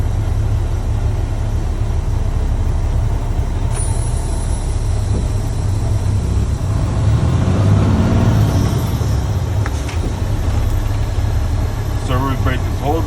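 A truck slows on its service brake during a CDL air brake test, its engine rumbling steadily and close, with a faint hiss and brief rattles near the end as it comes to a stop.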